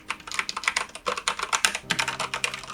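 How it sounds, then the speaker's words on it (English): Fast, steady typing on a mechanical keyboard with brown switches, made for the Mac, with soft, muted key clicks tapping rhythmically up close. "It has mechanical brown switches, so it sounds like"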